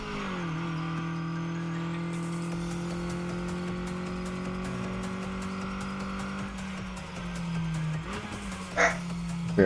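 A race car in the Redline Reverie racing game holds a steady, droning engine note, then brakes hard with a brief tire squeal as the revs drop and pick up again near the end.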